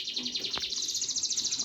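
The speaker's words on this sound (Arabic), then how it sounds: "سمعكم العصافير بس." Small birds, canaries and zebra finches, chirp in a steady, rapid high-pitched twitter, continuous and fairly near, with a brief click partway through.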